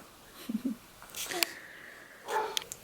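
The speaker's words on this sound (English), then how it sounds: "sorry that you guys can hear my dog" A pet dog at home gives a couple of soft yips followed by a longer whining bark, fairly faint and slightly distant in a quiet room.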